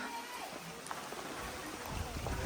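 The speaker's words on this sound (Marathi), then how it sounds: "सगळा कार्यक्रम संपल्यावर पाऊस आला" Light rain patters on a surface with a soft continuous hiss after a wedding event, a faint rumble growing toward the end.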